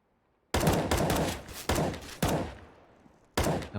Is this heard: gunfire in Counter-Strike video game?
yes